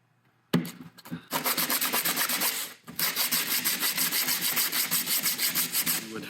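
Hand sanding of cured J-B Weld epoxy with a small piece of sandpaper, close and fairly loud, a steady run of rhythmic scratchy rubbing strokes with a brief pause partway through.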